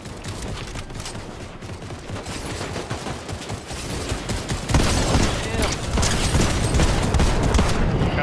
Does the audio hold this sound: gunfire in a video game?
yes